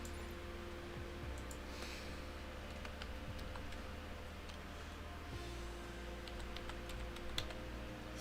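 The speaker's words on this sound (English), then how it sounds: "Let's try typing in landmarks" Faint, sparse clicks of typing on a computer keyboard tap irregularly beneath a steady low electrical hum and background noise.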